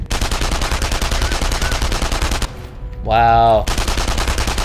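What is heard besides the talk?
gunfire in the video game Enemy Front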